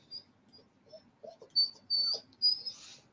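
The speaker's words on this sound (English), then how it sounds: "so my dog is begging" A dog begging for food gives thin, high whimpers and whines, several short faint cries spread over a few seconds in a quiet room, growing a little louder toward the end.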